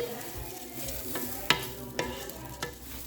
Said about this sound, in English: you could hear it kind of frying up now